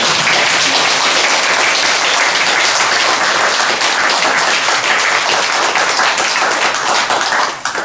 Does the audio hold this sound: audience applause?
yes